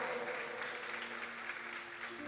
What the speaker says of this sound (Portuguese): Você pode aplaudir o Senhor? Faça isso com uma alegria.